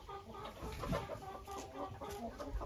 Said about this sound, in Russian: сейчас показываю вам своего старого петуха, который у меня с прошлого года